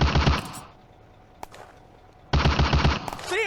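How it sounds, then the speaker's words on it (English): Bursts of automatic gunfire from a video game firefight on the Eastern Front in June 1944: a loud volley, a quiet gap with one sharp shot, then another heavy volley of rapid shots. "A furious firefight breaks out."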